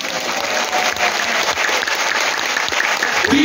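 A church audience claps steadily and fairly loudly for several seconds at a prayer gathering in Baekseok University's Haeun Hall, the sustained applause filling the room.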